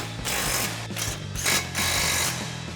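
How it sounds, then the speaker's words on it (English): A ratchet driving a 12mm socket to tighten brake caliper slider bolts on a 2005-2010 Ford Mustang, producing a steady, close mechanical clicking and whirring in several uneven pulses. "we'll tighten those back down with our 12mm socket"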